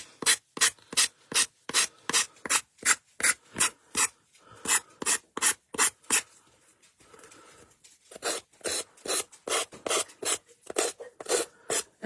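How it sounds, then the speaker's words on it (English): Rhythmic back-and-forth rasping of sandpaper along the edge of a small MDF album, steady close strokes in quick bursts with a brief softer pause midway. "sanding around that round tab is so much easier than trying to cut something to perfectly match"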